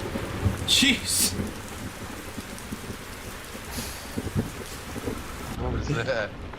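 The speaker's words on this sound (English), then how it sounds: "That was thunder. Oh, Wow, that was obnoxiously loud. Just like real thunder." Thunder and rain in the Euro Truck Simulator 2 driving game, with a steady rain hiss and a few louder rumbling bursts, ending in a short moment of a person talking.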